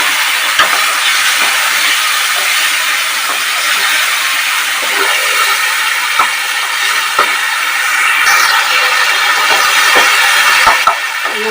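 Spice paste sizzling loudly in a pan as spiced water is poured in while Bengali mochar ghonto cooks, a strong, steady close hiss with small scattered pops and crackles throughout.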